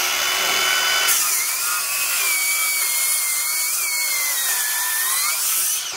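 A Craftsman V20 7-1/4 inch cordless circular saw with a new blade and a 9.0 high-energy battery cuts through wood. A high motor whine starts abruptly after a second and holds steady, loud and close, until it stops near the end.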